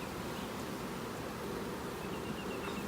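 A large crowd of honeybees buzzing steadily and loudly around an open hive during an inspection, a dense continuous drone without pause and no voices.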